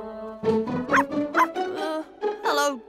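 A cartoon dog in a children's animated series yaps and whimpers in a quick series of high, bouncy barks close up, with no talk over it.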